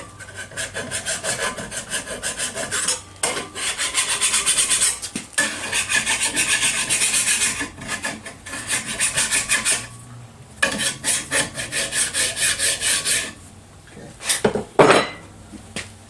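Freshly drilled holes in a metal cam lock bar for an Audi B5 S4 2.7t being cleaned up by hand, rapid rasping strokes in long close bursts with brief pauses.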